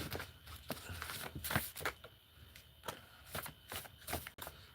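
A deck of playing cards is shuffled at close range, with quick riffling bursts and soft flicks coming in irregular rapid clusters, fairly quiet and with no talking.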